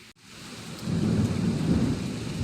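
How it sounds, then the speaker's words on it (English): Heavy rain pours down steadily while a deep roll of thunder rumbles underneath, building after a brief sharp crack at the start. "The rain just got really strong right now. And that's thunder you just heard."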